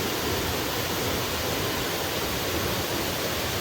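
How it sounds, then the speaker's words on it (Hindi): A hidden waterfall deep in forest near Shergaon in Arunachal roars as a steady, dense rush of falling water, close and constant with no other sounds. "इतना सुंदर वाटरफॉल कौन छोड़ना चाहेगा।"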